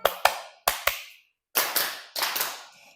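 Hands clap out a rhythm: two quick pairs of sharp claps, a pause, then a few fuller, more resonant claps, close and clear with no voice.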